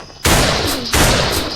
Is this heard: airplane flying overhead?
no